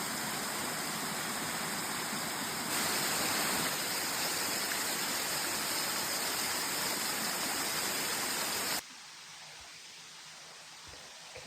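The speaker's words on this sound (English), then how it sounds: "Hello, Angel Falls." Angel Falls waterfall on a trail rushing in a loud, steady broadband roar that fills most of the clip, then drops abruptly to a quieter hiss near the end; no talking.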